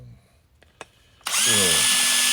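A power drill bores holes in Dewalt battery holders, starting with a couple of faint knocks and then a sudden, loud, steady high whine that runs to the end, close by.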